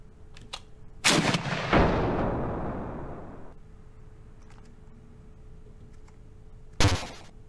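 A tank cannon in a video game fires high explosive rounds: two loud booming shots with a long rumbling decay after the first, then a quiet stretch and another sharp blast near the end.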